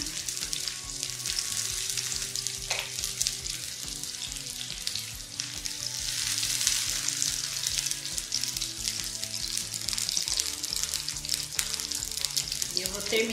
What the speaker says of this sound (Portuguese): Eu vou terminar de fritar todas elas aqui